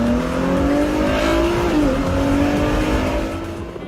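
A Ford GT supercar with a large-displacement engine revs hard and loud, the pitch climbing steadily. It dips briefly near the middle and then fades slightly at the end.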